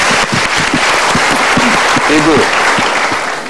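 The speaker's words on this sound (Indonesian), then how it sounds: "kita berikan tepuk tangan" A studio audience bursts into loud, dense applause that holds steady and fades slightly at the end, while a presenter's voice speaks over it.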